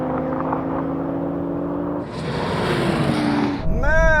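A BMW M850i and an Audi RS4 race side by side, their engines droning steadily as they accelerate, then a wind-filled rush as they pass and a rising whine near the end, loud and close.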